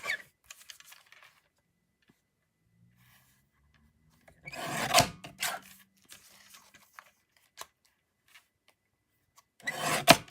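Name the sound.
trimming a piece of card for card making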